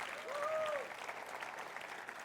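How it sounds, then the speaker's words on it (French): Congregation applauding during a French-language church service, a steady wash of clapping from many hands, with a brief sung or voiced tone rising over it near the start. "Est-ce qu'on peut applaudir"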